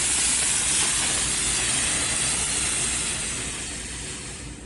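A Bissell PowerFresh Lift-Off Pet steam mop releases a steady, close hiss of steam on a hard floor, fading gradually toward the end as the flow dies away, with no voices.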